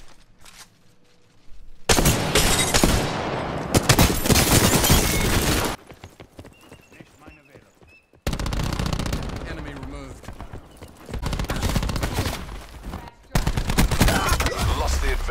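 Bursts of automatic gunfire in a multiplayer shooter video game, loud sustained rattling volleys in several stretches separated by brief pauses and quieter moments.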